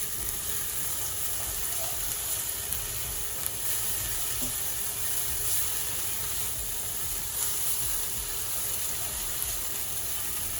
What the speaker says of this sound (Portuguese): Vamos continuar refogando. Deixa bem douradinho.